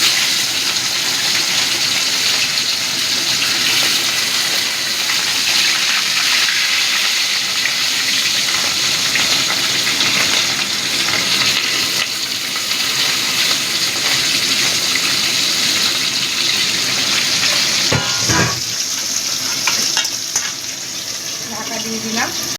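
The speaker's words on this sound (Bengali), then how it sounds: "আবারও আমি আর যে মাছ কটা আছে সে কটা ভেজে নেব।" Pieces of katla fish fry in hot oil in a pan, giving a loud, steady sizzle throughout, with stirring noises and a short burst of clatter near the end.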